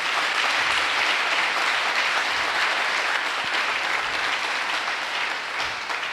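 A church congregation applauds and cheers in praise of the Lord during a sermon, steady dense clapping from a crowd filling the whole stretch at full strength without a break.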